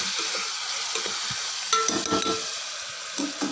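Chopped vegetables for vegetable rice sauté in a pan with a loud, even sizzle, broken by a few soft stirring knocks.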